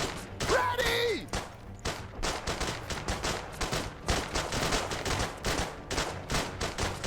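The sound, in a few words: engineers firing pistols in the video game Iron Harvest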